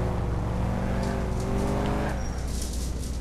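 A car driving in the video game Grand Theft Auto IV, with a steady loud engine drone whose pitch climbs and shifts as it accelerates, plus a brief tire squeal, and no talk.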